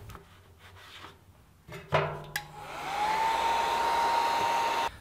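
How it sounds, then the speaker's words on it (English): A Harbor Freight heat gun blowing hot air on faded plastic: a few clicks and handling knocks, then a steady whooshing blower with a rising whine that settles into a constant tone before cutting off. "You just set your heat gun to the hottest setting that you can, and get it as close as you can without burning"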